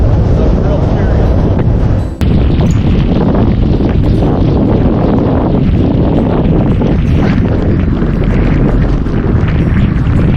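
Strong wind blows during a storm at Lake of the Ozarks, a loud, constant roar buffeting the microphone, with a voice faintly present beneath it.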